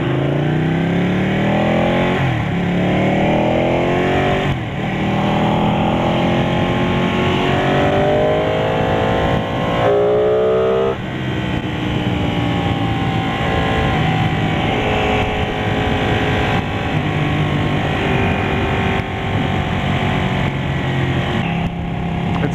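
A 2015 Ducati 899 Panigale revs loud and close during a ride, its engine note climbing through repeated rising sweeps as the rider works up through the gears at high RPM.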